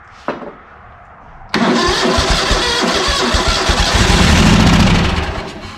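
A carbureted ZT200 engine cranks once briefly, pauses, then fires up and runs loud and rough with uneven pulsing for several seconds before easing at the end.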